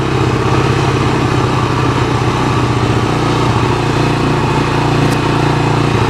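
A 1985 Honda TRX250 ATV engine runs steadily nearby, a loud continuous buzzing drone with some wind rumble over the microphone and no speech.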